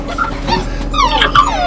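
Puppies in a conditioning and imprinting session before a swim whimper and yip in short, close, high-pitched cries over a steady background hum, with no talking.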